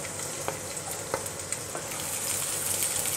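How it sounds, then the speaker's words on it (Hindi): Chopped garlic fries in hot oil in a pan for a Chinese-style soya chilli dish, giving a continuous even sizzle with a few sharp pops and ticks; no talking. "यहाँ पे ऑयल हमारा गर्म हो गया है। हम इसमें डालेंगे गार्लिक।"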